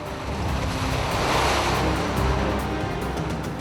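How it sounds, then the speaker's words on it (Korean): Loud ocean waves surge and wash continuously around a small pilot boat pulled up alongside a large ship on a rainy sea, with a rushing swell peaking in the middle. "그러나 파도의 방해가 만만치 않다."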